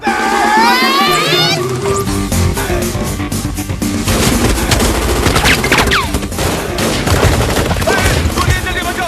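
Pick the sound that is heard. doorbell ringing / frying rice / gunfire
gunfire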